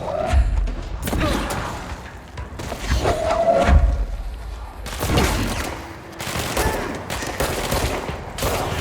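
A grenade goes off in the game Control amid combat, with several heavy thuds and blasts spaced across the stretch, loud and close, mixed with crashing impact noise.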